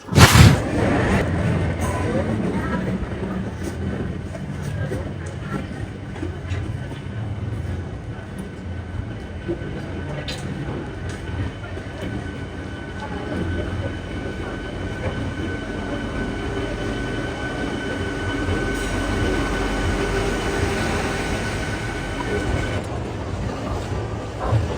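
A train rumbles through Thiruvananthapuram Central railway station, a long continuous rolling roar with clanks and thuds, fairly close, over a busy platform where people can be heard talking faintly.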